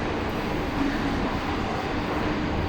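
Swiss GoldenPass train, a Belle Époque style carriage, rumbling steadily at a station platform; a continuous, moderately loud low rolling drone with no voices over it.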